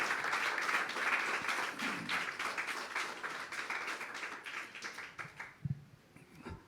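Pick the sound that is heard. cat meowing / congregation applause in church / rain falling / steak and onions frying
congregation applause in church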